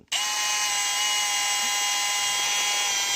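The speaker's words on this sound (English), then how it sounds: "you can see when I'm drilling it how it separates" A power drill bores into plastic car trim, starting abruptly and holding a steady, high, whining drone close up for a few seconds without a break.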